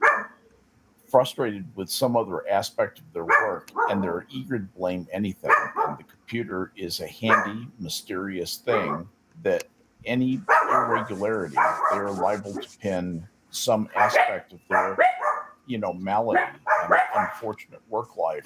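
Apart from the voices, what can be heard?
dogs barking in the background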